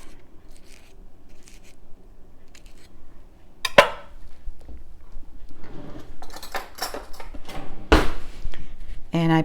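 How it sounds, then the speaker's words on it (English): A knife slicing through an avocado at home, with a few sharp cutting clicks and clinks against a surface amid quiet kitchen handling noise. "I'll slice the avocado."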